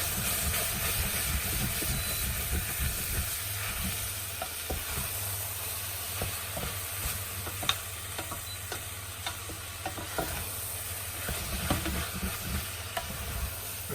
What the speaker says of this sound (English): Fry it up a little bit, watch out